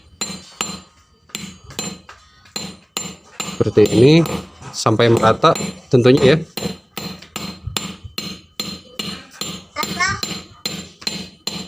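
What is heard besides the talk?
hammer tapping a CVT pulley boss on a Honda Beat FI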